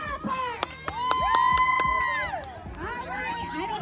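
A lively crowd of adults and children cheers, whoops and shouts at an outdoor bird family fun day in Washington, loud and close, with chanting voices rising and falling over several seconds.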